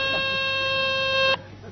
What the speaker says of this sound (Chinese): 电话来了。